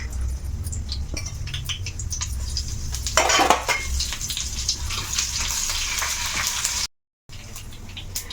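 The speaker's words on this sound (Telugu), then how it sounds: "ఇగో కొంచెం ఆయిల్ వేసుకున్నాను ఇగో సోంపు జీలకర్ర రెండు వేస్తున్నా సరేనా రెండు వేయించుకుంటాను" Fennel and cumin seeds frying in a little oil in a pan for an aloo paratha masala, a steady sizzle with metallic clinks of a utensil, a louder burst of spattering midway and a brief dropout near the end.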